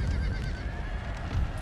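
Cavalry horses whinny in a Napoleon: Total War battle, a dense, steady field of hooves and neighing with rumbling battlefield noise, loud and continuous throughout.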